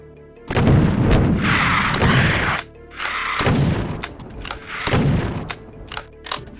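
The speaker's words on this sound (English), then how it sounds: "I'm using the regular shotgun because it's a little bit more precise" A regular shotgun fires in Doom, loud booming blasts with heavy low thuds that ring out and decay between shots, about four in a row with short pauses.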